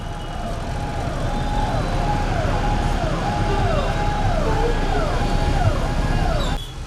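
Ambulance siren wailing in repeated rising and falling sweeps, loud and close, over engine and road noise, cutting off abruptly near the end.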